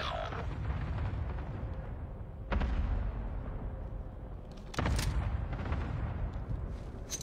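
Explosions boom in a shooter video game, with two heavy blasts standing out over a constant loud rumble of gameplay noise.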